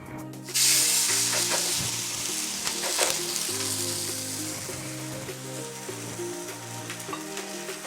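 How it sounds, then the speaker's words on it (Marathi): Cabbage thalipeeth frying on an oiled griddle gives a loud, steady sizzle that starts abruptly and continues throughout, with faint scraping and stirring sounds mixed in. "तर आपण थालीपीठ तव्यावर घालून घेऊ."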